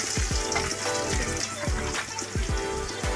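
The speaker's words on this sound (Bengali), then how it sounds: "এটা তো বহুত ফুটছে," Onion is dropped into hot oil in a home kitchen and fries with a busy, crackling sizzle, close and steady with sharp pops throughout.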